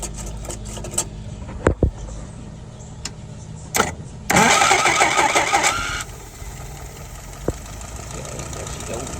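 A YF 938SD engine turns over with a few sharp clicks and thumps, then catches in a loud, buzzy rattling burst for about two seconds before settling into a steady, quieter running hum nearby.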